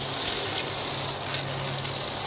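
A steady rush of water pours from a garden hose at a dacha, watering plants beside an Intex Easy Set pool, a continuous hiss and splash up close with no talk.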